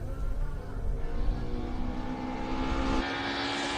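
A classic car on a hillclimb run roars past with a steady, loud engine drone that holds its pitch, then shifts slightly as it moves away, heard alone without voices.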